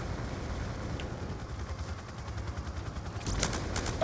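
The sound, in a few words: gunfire in video game Black Ops 2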